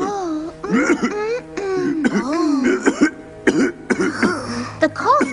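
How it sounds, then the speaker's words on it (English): A cartoon character coughs repeatedly in an animated polar bear film, harsh throaty bursts with strained vocal sounds in between, close and fairly loud. "The cough doesn't seem like it's getting better."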